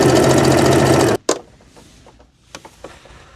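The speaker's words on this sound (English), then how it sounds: "I'll sew a little bit more, but it's not looking very good." A sewing machine stitches the hem of a circle skirt, running loud and steady with a rapid, even hum for about a second before stopping abruptly, followed by a few faint clicks and handling noises.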